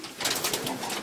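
Pigeons coo inside a Polish racing-pigeon loft, a faint soft throaty murmur over a brief moment amid diffuse background noise.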